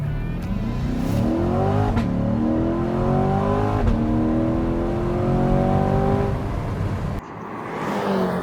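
A rented hardtop convertible supercar accelerates hard from a standstill, its engine rising steadily in pitch through a long, loud pull before easing off near the end, with no talking.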